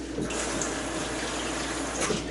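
Tap water runs steadily from a kitchen faucet while carrots are rinsed under it for a pot roast, a continuous close hiss with no talking.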